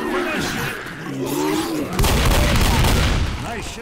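Gunfire in the zombie shooter Left 4 Dead, dense bursts of shots and booms filling the clip, growing heavier halfway through, with voices faintly mixed in.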